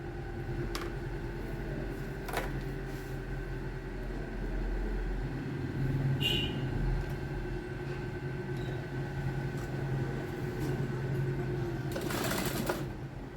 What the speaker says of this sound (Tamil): இந்த எண்டுக்கு முன்னாடி நான் வச்சு ஸ்டிச் பண்ண போகிறேன்